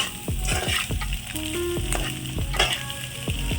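Egg fried rice with chili powder stir-fried in a pan: steady loud sizzling broken by repeated scraping and clanking strokes of a spatula against the metal, close by with no talking.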